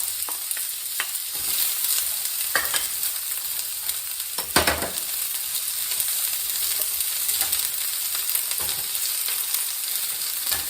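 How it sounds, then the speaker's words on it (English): Half a chopped onion sautés in a tablespoon of hot oil in a skillet, producing a continuous bright sizzle with occasional utensil clatter and one louder knock partway through, with no voices. "I have a tablespoon of oil heating in the skillet. To that, I'm going to add, this is half a chopped onion."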